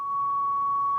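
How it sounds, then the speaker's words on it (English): A pure, steady sine test tone played through a Luxman SQ38FD tube amplifier, held at one constant pitch for about a second with no wavering, hum or distortion. "Beautiful clean sine wave."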